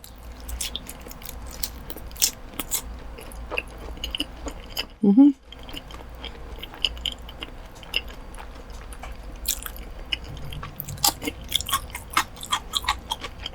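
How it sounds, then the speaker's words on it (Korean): Close-up chewing of a Domino's pizza with a crispy crust, with small crunchy bites and a louder burst of crunching midway, over a quiet room background. "도우가 아삭하니까 너무 좋아"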